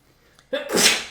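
A single sharp human sneeze bursts out close by after a brief quiet intake, loud and breathy, then fades quickly.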